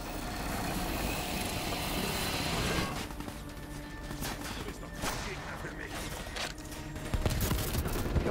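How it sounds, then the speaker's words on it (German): Bursts of rapid gunfire and crashing effects from Call of Duty: Black Ops 3 campaign gameplay, mixed with mechanical noise and occasional sharp impacts. "wer schießt da so saublöd?"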